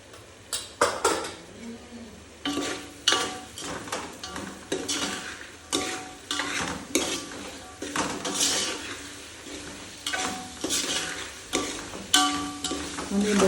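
Poha with salt, turmeric and chili powder being stirred in a pan, with a spoon clanking and scraping against the metal in repeated rhythmic strokes close up over a faint sizzle.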